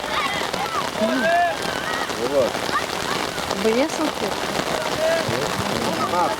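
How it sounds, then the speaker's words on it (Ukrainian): Heavy rain pours down steadily outdoors at a youth football match, a dense continuous hiss throughout, with several people chatting and calling out over it. "То не дощик вже, то злива."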